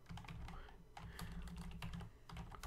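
Rapid irregular clicking of computer keyboard keys being typed, close and fairly loud, continuous throughout with short pauses, over a steady low hum.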